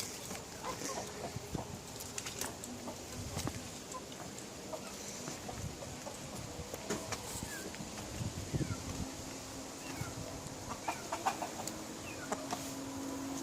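Backyard hens and a young patterned chicken raised from a hatched chick cluck softly and steadily at a distance, with scattered sharper calls over faint outdoor background.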